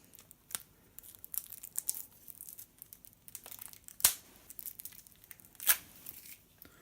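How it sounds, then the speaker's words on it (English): Cellophane wrap being peeled off an Arkham Horror 2nd edition board game box: close, faint crinkling and tearing plastic in scattered bursts, with a few sharper rips standing out. "getting the cellophane off"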